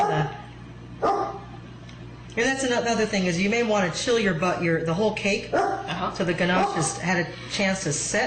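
A dog barks a few times in the background while someone talks steadily over it, the barks short and mid-distance.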